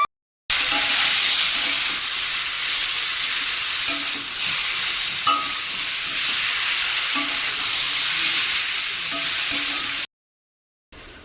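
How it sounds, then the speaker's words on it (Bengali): A soybean, pointed gourd and potato curry cooks in a pan, giving a steady broad sizzling hiss for about ten seconds with a few faint clinks, close up and with no talk, then cutting off sharply. "আজকে তরকারি হচ্ছে সোয়াবিন পটল আলুর তরকারি করেছি"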